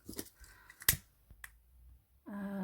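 Scissors cut bow ribbon in a few sharp snips, one especially crisp, close up, followed by a steady tonal hum near the end.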